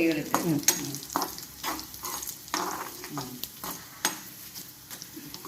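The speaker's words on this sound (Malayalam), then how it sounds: "ഇതിൻ്റെ വറവ് നമുക്ക് വേപ്പില കണ്ടാലും അറിയാം. വേപ്പില ഒടിയണം." Curry leaves and spices fry in hot oil for a sambar tempering, giving a steady close sizzle broken by scraping stirs and crackling pops.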